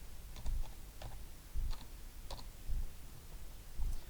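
Computer keys tapped in short, evenly spaced clusters of clicks, fairly quiet and close, with no voices over the typing.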